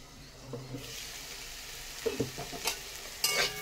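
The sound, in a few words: frying and stirring brinjal with neem leaves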